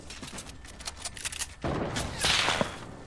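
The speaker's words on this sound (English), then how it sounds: "There's people shooting everywhere." Gunfire in Fortnite as players shoot all around, quick bursts of shots that grow louder toward the end, rattling in brief clusters.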